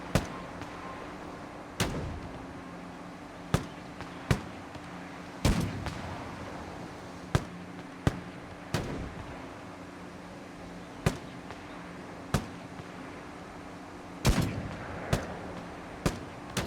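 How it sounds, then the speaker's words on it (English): A .50 cal machine gun in the video game Broken Arrow fires in isolated heavy bursts, loud sharp cracks spaced irregularly a second or two apart over a low steady background hum. "You can definitely hear that 50 cal go off."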